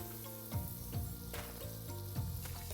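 Vegetables sizzle steadily in a pan of butter and olive oil, a close, constant frying hiss broken by occasional soft stirring knocks, with no talking.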